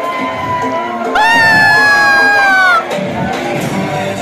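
Packed cinema audience at a Pathan screening erupts in loud cheering, whoops and shouts, with a sustained high yell rising over the crowd for about a second and a half before the roar settles back.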